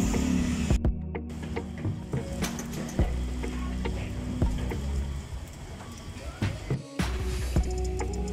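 Hungarian sausages sizzle on a grill at a local food stall, a steady frying hiss broken by metallic clanks and scrapes of turning tools, close and continuous.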